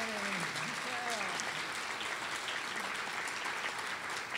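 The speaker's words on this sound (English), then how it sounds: "I think we need to give them a big applause," Sustained crowd applause at an induction ceremony, a broad wash of clapping throughout, with a voice briefly heard over it at the start.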